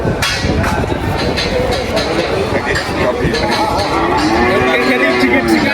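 Simmental crossbred cattle at a busy livestock market low near and far, a drawn-out moo rising near the end over a noisy crowd of people talking.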